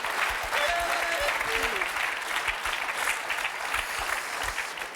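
A TV game show studio audience applauds a contestant, a loud, dense burst of clapping with music and a voice running under it.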